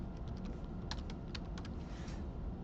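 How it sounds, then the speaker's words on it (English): Password typed on a computer keyboard, a quick irregular series of faint key clicks over a low background hum. "Make sure I type that correctly both times."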